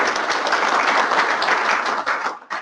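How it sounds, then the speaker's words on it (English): A conference audience applauds for an honoree, a loud, close, dense burst of clapping that thins out with a few scattered final claps. "I want everybody to give a big round of applause to Skip Nash"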